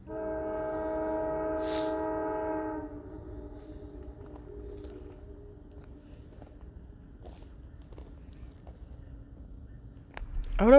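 An Amtrak train horn sounds at Elkhart Station, one loud sustained multi-tone blast lasting about three seconds, followed by low rumbling rail noise and a rising squeal at the end.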